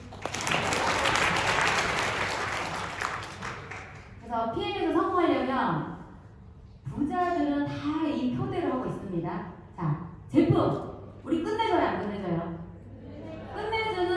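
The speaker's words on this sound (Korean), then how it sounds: "박수!" An audience at a business training seminar bursts into loud applause for about four seconds, then someone speaks into a microphone over the fading room sound.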